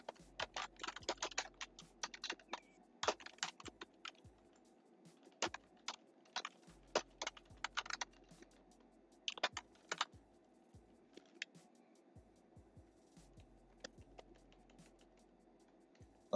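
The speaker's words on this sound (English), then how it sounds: "let me go on mute since my typing is loud" Rapid, uneven bursts of clicky keystrokes on a computer keyboard, close and fairly loud, with short pauses between flurries and no talk.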